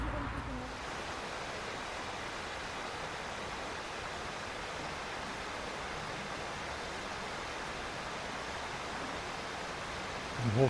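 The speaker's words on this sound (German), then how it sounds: "Rundweg am höchsten Naturwasserfall Deutschlands." Todtnau waterfall in the Black Forest, Germany's highest natural falls, roaring as a steady, dense rush of falling water that fills the scene without pause.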